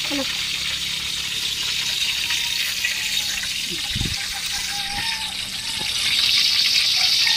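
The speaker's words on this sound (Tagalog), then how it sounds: "Nagluluto tayo ng buaya" Crocodile meat frying in a pan: a steady sizzling hiss that swells slightly near the end, with a person talking over it.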